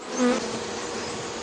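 Honeybees buzz steadily among flowers while gathering pollen into the baskets on their hind legs, a dense, even hum with one brief louder swell as a bee passes near.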